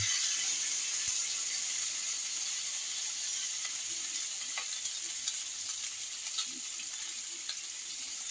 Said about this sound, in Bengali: সবটা আমি একটা পেস্ট বানিয়ে নিয়েছি। এই পেস্টটা একসঙ্গে আমি দিয়ে দেবো।